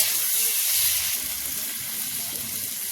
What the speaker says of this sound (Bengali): ভালো করে ভেজে নেবো টমেটোর সাথে।